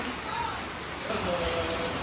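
Steady rain pattering on a surface at night, a dense continuous hiss with scattered drop impacts throughout, fairly close and even in level, with no talking.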